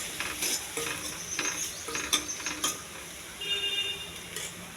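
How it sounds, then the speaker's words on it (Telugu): Ginger garlic paste frying and being stirred in a pan for mushroom curry, a soft steady sizzle with scraping spoon strokes at irregular intervals, close and fairly quiet, with no talking. "కొంచెం అల్లం వెల్లుల్లి పేస్ట్ అండి, పచ్చివాసన పోయేంత వరకు వేగించాలి."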